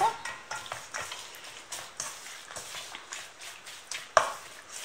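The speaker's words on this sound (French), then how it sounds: "Et je vais mélanger mes brochettes avec la sauce" Chunks of meat for skewers being tossed and mixed with a harissa sauce, giving a series of close, soft wet squelches and scrapes repeating at an irregular pace, with one sharper clack near the end.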